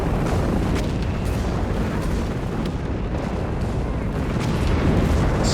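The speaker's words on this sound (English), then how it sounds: "So much artillery." Artillery explosions rumble in a Company of Heroes 3 match, a dense, continuous barrage of deep booms and crackling blasts, loud and overlapping with no gaps.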